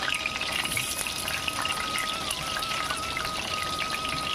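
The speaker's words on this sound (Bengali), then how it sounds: "এবার আলুগুলোকে বেশ লাল লাল করে আমি ভেজে নেব" Large potato pieces frying in hot oil, giving a dense, even crackling hiss that holds steady and close throughout, with no talking.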